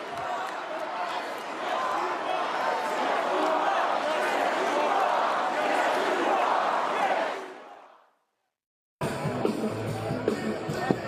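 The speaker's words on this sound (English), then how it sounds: "Multiple times they were cheering for him and starting up those different sort of chants." A large crowd at the Republican National Convention roars and chants loudly for several seconds, then the noise fades out, cuts to silence, and other sounds follow.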